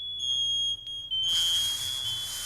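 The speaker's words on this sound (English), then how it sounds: "there are several smoke detectors that work" A high, piercing electronic alarm tone sounds steadily, then a hissing burst of noise joins it, loud and continuous.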